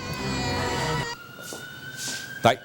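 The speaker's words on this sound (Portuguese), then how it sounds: "Tá aí a sirene." A police siren wails steadily in the first second, then cuts off, leaving a high tone and a few sharp knocks, loud and close.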